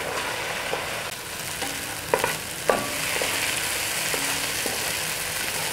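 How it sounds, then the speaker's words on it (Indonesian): Spice paste with pepper and palm sugar sautéing in a pan for beef bistik: a constant close hiss of frying with a few clinks and scrapes of a stirring utensil. "Ini bumbunya kita tumis sampai matang, sampai harum, sampai langunya itu hilang nanti ya."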